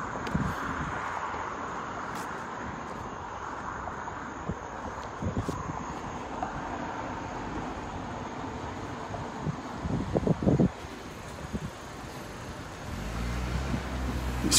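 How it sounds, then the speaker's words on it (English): Cars move past at a Long Island Rail Road station in Long Beach, a steady roadway rumble with wind buffeting the microphone, swelling as vehicles go by close, alone without talk. "I let cars go first. They move quick."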